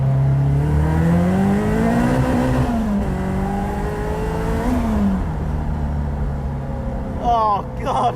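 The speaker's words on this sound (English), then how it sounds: "once you really open this thing up, I mean, let's just try second gear here." A Caterham Seven 620S, the most powerful production Caterham, revs hard in second gear, its engine note climbing loudly, briefly dipping and surging again with strong wind roar before tapering off near the end.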